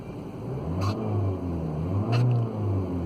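A Ford Fiesta 1.6 TDCi diesel with a P2565 turbo boost fault revs: a close, steady low rumble that rises briefly twice, heard alone.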